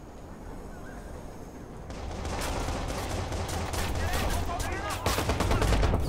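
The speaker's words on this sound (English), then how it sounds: "Who are you shooting at?" Rapid gunfire in the video game Watch Dogs, a dense loud stream of shots that grows heavier partway through and continues throughout, with no talk.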